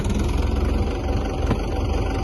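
A farm tractor stuck in a field with a thresher labours to pull free, its engine giving a loud, continuous low rumble throughout the short stretch, with no voices over it.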